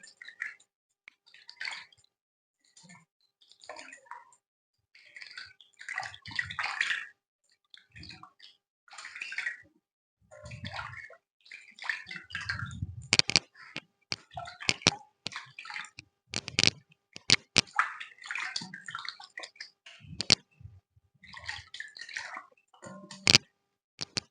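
Water splashes as a face is rinsed after an orange peel and turmeric scrub, with intermittent close splashing, dripping and sloshing bursts coming in uneven pulses.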